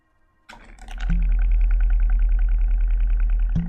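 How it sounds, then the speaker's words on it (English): Continuous loud rumbling from a video game, a low steady roar that swells in over the first second and then holds without a break, with a faint electronic tone riding over it. "We have unceasing rumble."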